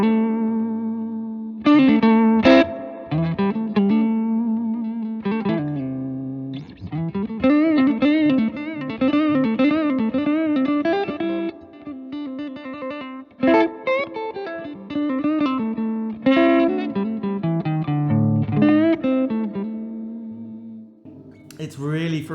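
A steel-string electric guitar plays a lively solo through a Dumble-style clean overdrive pedal, with punchy, slightly driven notes, quick runs and bends, and sustained chords with a touch of echo.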